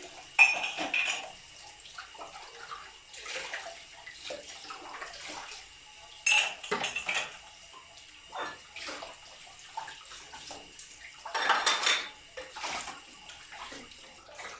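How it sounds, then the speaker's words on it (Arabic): Dishes and glasses are washed in a kitchen sink: water splashes in short bursts while plates and cups clink and clatter, fairly quiet and close, with pauses between rinses. "هبدأ كده اغسل بقى كده الأطباق بعد ما اخلص بقى الكوبايات"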